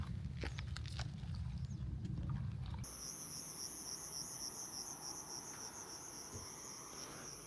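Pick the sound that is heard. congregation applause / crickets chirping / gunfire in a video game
crickets chirping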